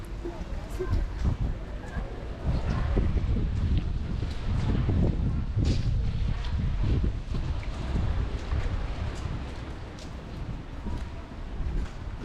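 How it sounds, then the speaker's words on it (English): Strong wind gusting outdoors on a rainy day in 's-Hertogenbosch, Netherlands, roaring steadily and buffeting the microphone with heavy low rumble throughout. "It's really windy."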